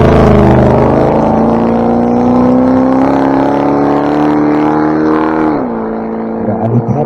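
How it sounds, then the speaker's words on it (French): A Corvette serving as the sweeper car at a 2023 race event at Les Essarts drives past with a loud, steady engine drone that holds its pitch, then drops lower and quieter near the end. "donc là on a la Corvette, donc c'est la voiture balai"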